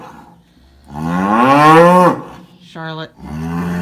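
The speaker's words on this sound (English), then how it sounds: "This is where we put all the cows that are due to calve" Cattle in a calving lot full of cows due to calve give a loud, drawn-out moo that rises and falls, then a shorter, higher call, with a brief spoken word between them.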